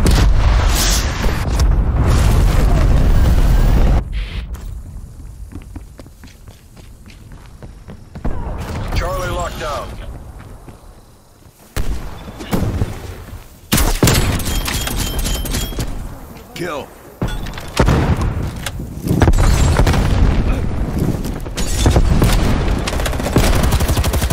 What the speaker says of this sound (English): Enemy cruise missile launch detected.